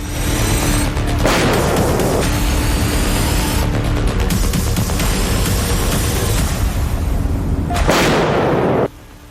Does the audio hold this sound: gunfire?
yes